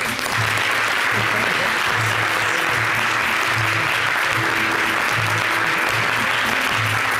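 An audience at a televised interview applauds steadily and loudly throughout, dense clapping without pause and a faint voice beneath.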